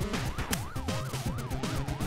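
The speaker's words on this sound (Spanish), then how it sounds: "Con la sirena de mierda que tenía" A police car siren from the retro-style video game Retro City Rampage wails up and down in a steady, fast rising-and-falling pattern, loud and continuous over busy game music and effects.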